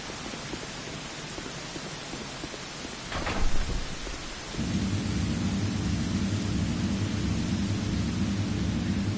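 Dark Souls II storm ambience: steady rain hisses throughout, a thunder crack rumbles near the middle, then heavier, denser rainfall swells in and continues to the end, with no speech.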